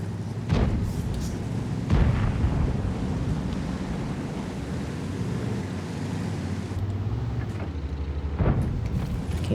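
Tank cannon shots in World of Tanks, a few deep booming blasts spaced apart over a steady rumbling engine and wind-like background, loud and close.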